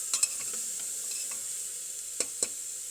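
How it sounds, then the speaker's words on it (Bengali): Chicken and vegetables are stirred in a pan with a soft, steady sizzle, punctuated by a few sharp scrapes of the spoon against the pan, heard close. "এবার হালকা একটু নাড়াচাড়া করে নেব।"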